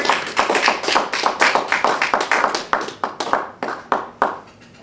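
Small audience clapping at a disaster preparedness class, near and lively at first, then thinning into scattered individual claps that fade out.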